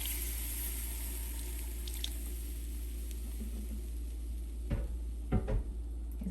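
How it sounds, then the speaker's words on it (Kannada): Milk poured into a pan while making creamy white sauce pasta: a few brief liquid splashes and gurgles near the end over a steady low kitchen hum. "ಸೊ ಈಗ 1 ಕಪ್ ಆಗೋಷ್ಟು ಹಾಲು ಹಾಕ್ತಾಯಿದ್ದೀನಿ."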